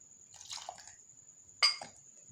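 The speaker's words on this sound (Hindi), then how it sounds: "फिर हम इसमें डालेंगे पाइनएप्पल सिरप" Pineapple syrup is poured into a creamy pasta salad, giving two short wet, splashy bursts over a faint steady high whine, close by and fairly quiet.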